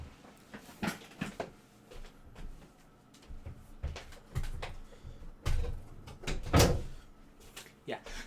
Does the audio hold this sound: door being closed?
yes